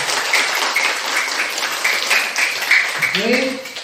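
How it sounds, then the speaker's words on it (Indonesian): Children in a classroom clap together at a teacher's request, a steady patter of many small hands close by that runs throughout, with a voice and a brief tonal sound near the end. "Oke, tepuk tangan semuanya dulu."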